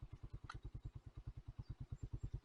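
An air-cooled Skygo Boss 150 motorcycle idles close by with a quick, even single-cylinder putter, about eight firing pulses a second, steady and unaccompanied except for a brief metallic tick.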